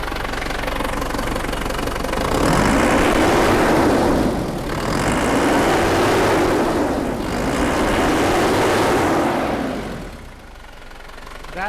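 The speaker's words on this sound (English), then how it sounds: "Let's see if this engine revs any better now." A Holden Isuzu Rodeo engine with a lack-of-power fault revving up several times, each rise to a loud roar settling back before dropping toward idle at the end, close and without talk.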